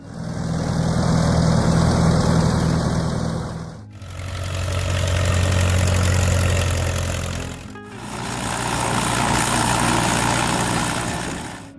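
An Allis-Chalmers D17 tractor engine idles steadily and loudly, a low rumbling throb heard in three sustained stretches with brief dips between them.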